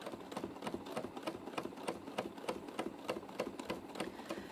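A sewing machine runs in free motion quilting with a size 90 titanium needle, a quiet, quick rhythmic chatter of stitching that repeats evenly several times per second without pause.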